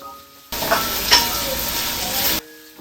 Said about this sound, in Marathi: कैरीचं फोडी घालायची आणि चांगलं परतून घ्यायचं